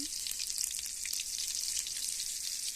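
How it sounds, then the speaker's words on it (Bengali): Whole dried red chillies, whole garam masala and cumin seeds sizzle in hot oil during a tempering, a steady bright crackle at moderate level throughout with no one talking. "ফোড়নে গোটা লঙ্কা, গোটা গরম মশলা দিলাম, জিরে দিলাম,"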